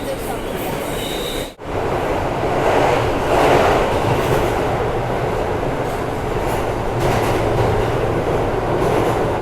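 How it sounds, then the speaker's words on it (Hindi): A New York subway train rattles through a station with a loud, continuous rumble, clattering wheels and brief squeals, with faint talk underneath; there is a short sharp drop in noise early on. "देख लीजिए, आपको थोड़ी बहुत मैं सबवे की जर्नी दिखा रहा हूँ बस।"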